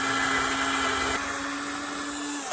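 A power drill whines at a constant high pitch, briefly dipping partway, then cuts off sharply at the end.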